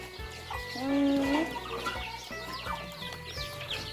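Farmyard chickens cluck close by on a rural farm, with repeated short clucks and one drawn-out, rising call, over a low ambient background.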